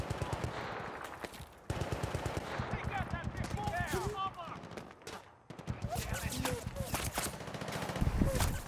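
Sustained machine gun fire in the video game Battlefield Bad Company 2 during a base defence, long rattling bursts with brief gaps, mixed with other gunfire and game sounds, while a voice talks over the action.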